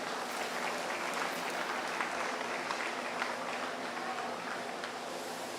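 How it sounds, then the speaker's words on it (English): Audience at a county 4-H dairy beef show clapping for the fat steer exhibitors, a steady, fairly loud wash of many hands that holds evenly throughout. "Give our fat steer exhibitors a round of applause here real quick"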